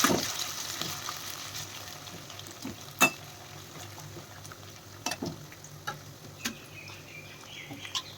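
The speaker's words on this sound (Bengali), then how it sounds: "তেলটা বেশ ভালো গরম হয়ে যাওয়ার পর আমি এর মধ্যে দিয়ে দিচ্ছি কুচিয়ে রাখা আলুটা।" Chopped potatoes frying in hot oil in a wok, a soft steady sizzle running throughout with a few sharp clicks and taps of a utensil scattered across it, fairly quiet and close.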